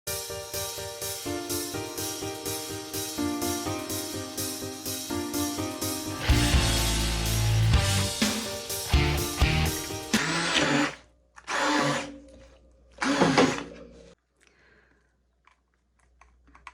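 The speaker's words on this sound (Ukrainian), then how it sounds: "Потім ще раз пробиваємо блендером" An electric blender purees a processed cheese mixture, giving loud, rough whirring bursts with short pauses between them that follow a stretch of background music.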